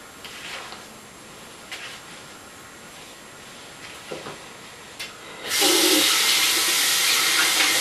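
A bathroom tap turns on partway through and runs loudly and steadily as hands are wetted, after a stretch of quiet handling sounds.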